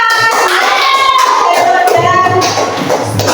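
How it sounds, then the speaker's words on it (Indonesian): A classroom group claps hands together, a dense burst of applause lasting a few seconds, loud and close, with teacher and student voices mixed in. "Tepuk tangan."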